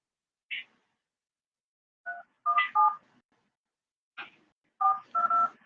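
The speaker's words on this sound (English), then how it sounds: "I'm fixing to call his phone." Telephone keypad tones sound in short, separate beeps, a single press followed by small clusters of two or three, clear and moderately loud against near silence.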